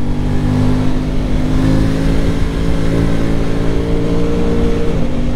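An Aprilia Tuono 660 Factory motorcycle accelerating on the road, its engine droning loud and steady up close with a sustained throaty tone and wind rush.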